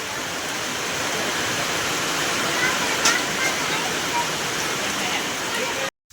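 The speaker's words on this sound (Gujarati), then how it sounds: "તો અત્યારના વરસાદ ચાલુ થઈ ગયો છે, તમે જોઈ શકો છો કેટલો બધો" Heavy rain pours down over a cotton field on a farm, a dense, steady hiss that holds nearly unchanged before cutting off abruptly at the end.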